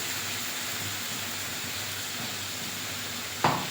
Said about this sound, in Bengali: এবারে মাংসটা ভালো করে কষিয়ে নেব।